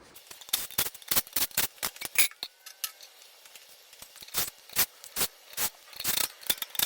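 A hand ratchet works the rear sprocket off an 18-inch wheel from a Surron electric dirt bike, giving fast bursts of crisp close clicking in uneven runs with short pauses between strokes.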